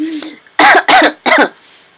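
Three harsh coughs in quick succession follow a brief vocal sound, close and loud indoors.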